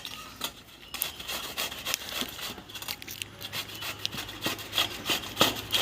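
Raw green mango is scraped against a hand grater in quick, repeated rasping strokes, a close and uneven scratching rhythm with no voices.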